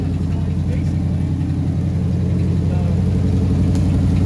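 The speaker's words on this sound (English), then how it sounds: "When I touch the gas, like watch, I'll touch it and it'll kick the 4-barrel in." An old car with a 4-barrel carburetor that sat unused for 30 years runs steadily, a loud and close low engine drone with a slight rise as the throttle is touched.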